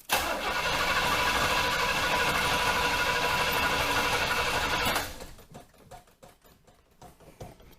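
Car engine cranking and catching after a boost from an Adoretrip 2500A jump starter, a loud, close, continuous mechanical churn for about five seconds that then cuts off, leaving scattered clicks and knocks.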